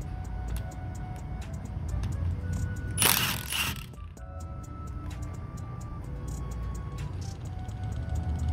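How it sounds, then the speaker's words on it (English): A Milwaukee 3/8 ratchet works on rear wheel bearing bolts of a Chevy Silverado, giving rapid, fairly faint clicking ticks across the span, with a brief burst of louder broadband mechanical noise partway through. "it's time to start cracking these bolts. Got my trusty Milwaukee 3/8."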